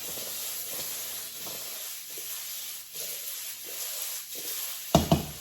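Chopped shallot sizzles and hisses in a hot wok as it is tossed, with quiet stirring scrapes and a couple of sharper clatters near the end; no one speaks.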